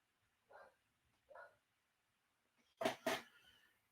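A dog indoors gives two soft, muffled barks, then a pair of louder, sharper barks close together near the end, with quiet room tone between.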